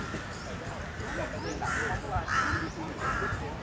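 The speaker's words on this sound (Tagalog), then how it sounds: "Daming uwak dito." Several crows caw repeatedly in a park in Bangkok, harsh calls coming in bursts at moderate distance, with voices murmuring in the background.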